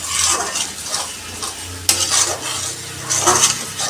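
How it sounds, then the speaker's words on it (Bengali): Spice paste sizzles in a hot pan while a spoon scrapes and stirs it repeatedly, loud and close, with metallic clinks. "পুরো মশলাটা হচ্ছে যতক্ষণ হচ্ছে ভালো করে ভাজানো হয় ততক্ষণ নাড়তে হবে"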